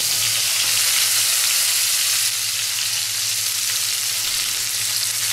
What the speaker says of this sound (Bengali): এবারে মধ্যে পেঁয়াজ এখানে একটা বড় সাইজের পেঁয়াজ দিয়েছি